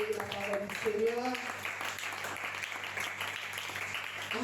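A church congregation applauding during a French-language fasting and intercession service, steady clapping throughout with voices calling out over it.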